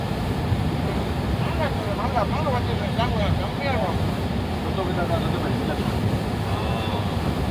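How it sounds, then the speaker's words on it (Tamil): Steady sea wind buffets the microphone aboard a fishing boat off Pangkor Island, with broadband wave and hull wash underneath and people talking intermittently over it throughout. "கடல் காத்தா இருக்கு."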